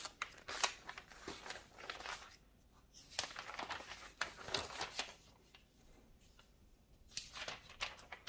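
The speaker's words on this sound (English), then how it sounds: "the turning pages was so relaxing to me" Pages of a vintage magazine turn one after another, soft close papery swishes and crinkles rising and fading in an unhurried rhythm.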